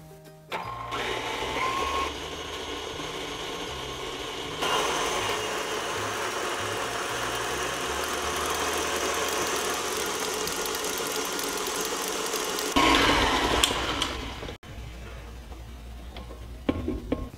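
An electric mixer runs steadily at medium speed beating popover batter for Portuguese cavacas, a continuous close whirring drone with a slight shift partway and a brief clatter near the end before it switches off, no talking.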